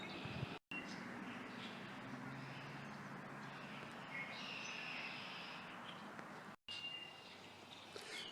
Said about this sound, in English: I don't know if you can hear the birds that are singing in the background